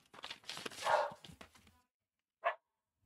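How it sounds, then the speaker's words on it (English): Dogs barking in a room below, a quick run of muffled yaps followed by a gap and one last short bark, faint and slightly distant. "You can probably hear my dogs going crazy downstairs."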